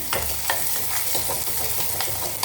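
Onions and curry leaves fry in a pan for a traditional tamarind curry, a soft continuous sizzle broken by several sharp spoon scrapes and stirs at a fairly even pace, close and fairly quiet.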